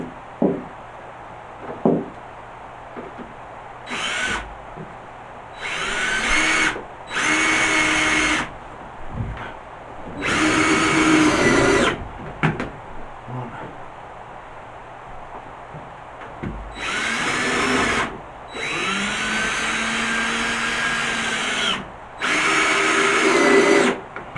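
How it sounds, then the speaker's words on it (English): Power drill driving screws into timber framing for a loo wall, several loud bursts of whirring separated by pauses, close by with no talking. "Fire a couple of screws in"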